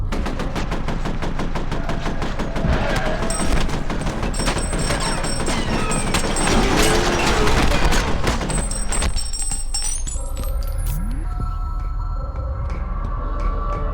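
Rapid video game gunfire crackles loud and nearly continuous, bursts of automatic shots mixed with single reports, thinning into scattered shots and fading effects toward the end.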